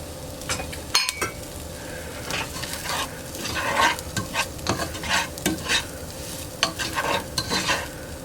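Garlic cloves stirred into seasoned sausage sizzling in a pan for lasagna: a steady frying hiss with repeated scraping stirs and an occasional utensil clink, close by.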